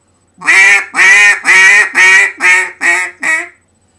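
Seven loud, rhythmic quacks from a duck call blown up close, each a short raspy burst, the series tapering slightly toward the end.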